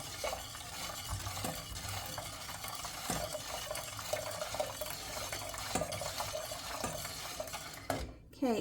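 A spoon stirs pudding mix and water in a pot, scraping steadily with light clinks against the metal, close and continuous, with no talking.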